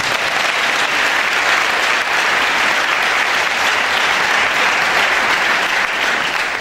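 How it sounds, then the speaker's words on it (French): A church congregation at a Sunday service bursts into loud, steady applause, dense clapping from a large crowd that holds at full strength throughout without pause. "Est-ce qu'on peut acclamer le Seigneur?"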